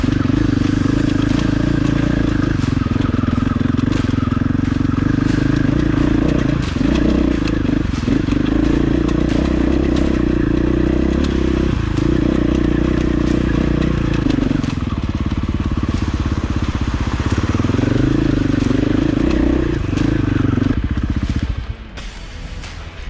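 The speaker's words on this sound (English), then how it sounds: "Bike just bogs down." A motorcycle engine bogs down while riding a Colorado mountain trail in second gear, with creek crossings and snow about. It runs loud and close with a steady, labouring drone, mixed with clatter and scrapes, and drops away near the end.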